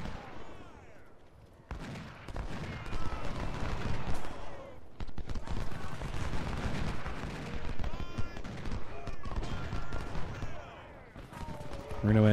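Gunfire and artillery in a Civil War battle in the strategy game Ultimate General: Civil War, heard as a continuous dense crackle of musketry with heavier booms mixed through the full length.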